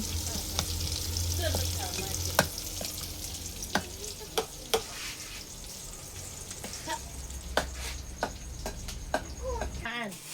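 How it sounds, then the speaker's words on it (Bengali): Onions and garlic fry in a pan for tempering lentils, sizzling steadily and close. Sharp clinks and scrapes of a stirring spoon break in now and then, with voices talking faintly in the background. "ডাইলারে বাগার দিব সেই জন্য এই যে পেঁয়াজ গুলারে বাইজা নিতেছে পেঁয়াজ রসুন"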